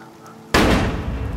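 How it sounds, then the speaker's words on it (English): In the video game Detroit: Become Human, a single sharp gunshot from Hank shooting himself cracks loudly after a quiet moment, then leaves a lingering, echoing tail. "I think Hank just shot himself."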